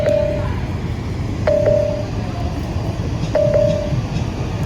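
A Samsung phone's anti-theft alarm sounds after its charger is pulled, three short electronic beeps at roughly two-second intervals over a steady rumbling background.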